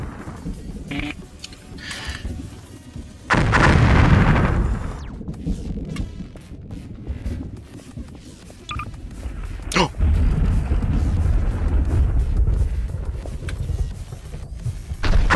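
Gunshots and a heavy explosion in Garry's Mod: a broad, loud blast rumbles for about a second early on, followed later by sharp isolated shots, with talk running underneath.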